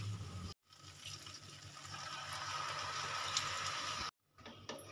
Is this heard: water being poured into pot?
yes